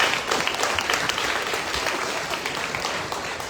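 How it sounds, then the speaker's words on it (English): A crowd applauds at a county fair opening ceremony, dense continuous clapping from many hands, loud and steady, fading slightly toward the end. "So let's give them a big round of applause."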